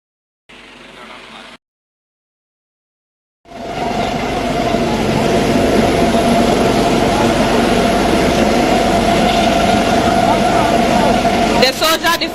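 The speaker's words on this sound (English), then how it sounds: "The helicopter is currently hovering at about" A military helicopter hovers during a Ghana Armed Forces rescue team display at an Independence Day celebration. After a short burst and a silent gap, a loud, steady rotor and engine roar sets in close by and holds to the end.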